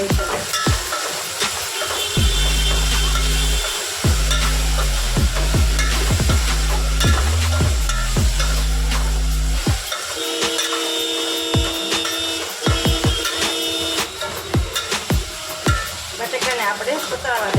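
A spoon stirs and scrapes moriya khichdi with potatoes as it sizzles in a pan, with steady frying and scraping under loud background music and no talking.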